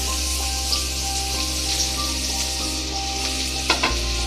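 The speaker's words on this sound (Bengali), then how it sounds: "এরপর আমি আমার এই পেঁয়াজ কুচিটা এর মধ্যে আমি দিয়ে দেবো" Chopped onion frying in a pan for a cream chicken dish, a loud steady sizzle with occasional stirring scrapes and a brief clatter near the end, heard up close.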